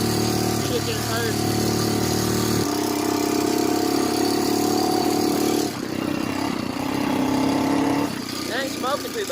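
A Honda 300EX ATV engine running steadily close by, its drone changing pitch and level as it is shifted up through the gears, with someone talking over it.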